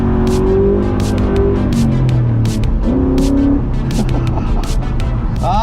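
A New Edge Ford Mustang's modular V8 drones loudly and steadily while driving, its pitch rising and falling with revs, with faint voices beneath.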